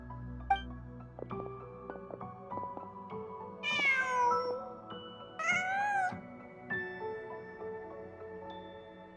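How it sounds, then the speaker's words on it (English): A cat in the video game Genshin Impact gives two short meows a couple of seconds apart, set over soft ambient game music. "Just a cat."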